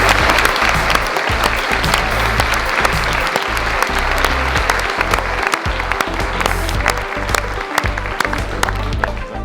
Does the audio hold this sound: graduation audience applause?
yes